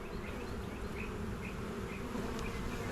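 Honeybees buzz in an open hive during a mid-April inspection, a steady close swarm drone with individual bees droning past now and then.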